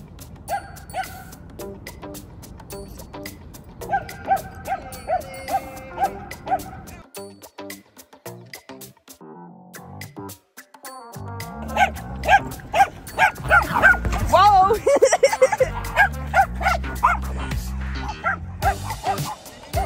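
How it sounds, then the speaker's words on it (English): A small puppy on the grass gives repeated high yips and barks, scattered at first and then a dense, louder flurry of excited yelping toward the end. "Puppy."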